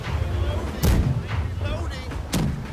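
Two loud ship cannon blasts in the game Blackwake boom out in quick succession over a rumbling background of naval battle noise.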